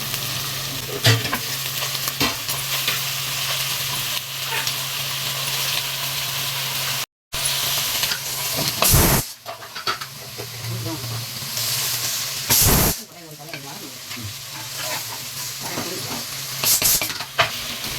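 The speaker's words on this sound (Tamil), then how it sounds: "இப்போ வந்து வெங்காயம் ஓரளவுக்கு வதங்கியாச்சு பாவக்காய் சேர்த்துடலாம்" Bitter gourd stir-fries with sautéed onions in a pan, giving a loud, steady sizzle with repeated stirring scrapes and clatters throughout, briefly cut off once and then resuming.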